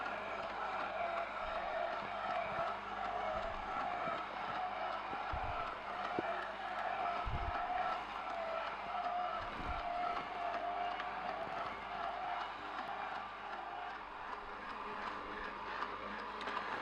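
An Omega Sana EUJ808 juicer motor whirs steadily and loudly while juicing golden melon, with a dense grinding roar that holds constant throughout.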